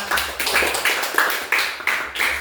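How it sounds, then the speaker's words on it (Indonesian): A class of students applauds together, a sustained burst of clapping with regular surges, fairly close and steady, with no voices over it. "tepuk tangan untuk kita semua"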